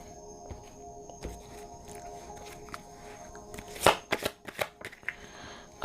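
A deck of oracle cards being shuffled, with quiet handling at first and then a cluster of quick, crisp riffling bursts close by near the end.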